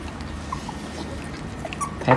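Ridgeback puppies and adult dogs with their mother give faint, soft whimpers and small yips over a low steady hum, ending with a sharper, louder yelp close by.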